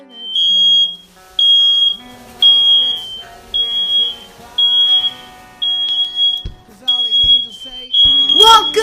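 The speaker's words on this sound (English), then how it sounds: "I have a faulty smoke alarm." A faulty smoke alarm sounds a series of short, loud, high-pitched beeps, roughly one every second, over someone talking and some background sounds, with a louder burst at the end.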